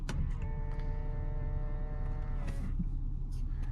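A power memory seat motor in a 2010 Nissan Maxima 3.5 whirs steadily as the seat moves on its own, a close, even electric hum over quiet cabin noise that stops partway through, followed by a few faint clicks.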